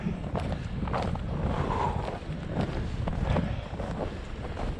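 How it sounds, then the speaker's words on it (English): Wind gusting outdoors on a cold winter hiking trip in about 15 to 20 mile-an-hour wind, a steady rumbling buffet against the microphone with faint crunching movement underneath. "it's low 20s, 20-mile-an-hour wind, 15-mile-an-hour wind"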